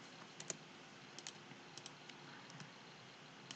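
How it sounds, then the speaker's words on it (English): A computer keyboard clicks in faint, scattered keystrokes over a steady background hiss while someone types, with no speech. "I will start typing in capitals."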